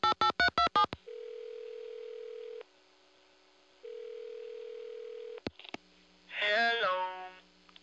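Telephone tones on a phone call: a rapid burst of dialing beeps, then a steady dial tone that stops and restarts, followed by a click and a brief warbling electronic sound at the end.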